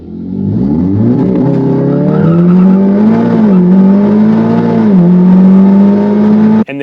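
VW Golf R Mk7 fitted with a Milltek downpipe on a race track, engine revving hard and climbing through gears with rising, wavering exhaust tones, loud and close, ending in an abrupt cut.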